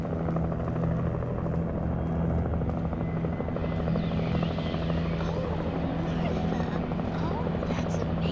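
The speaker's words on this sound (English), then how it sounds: "Please don't mind the helicopter noises while we're trying to watch some TV." A steady, droning helicopter hum runs through a scene in the video game Alan Wake, with voices talking faintly over it.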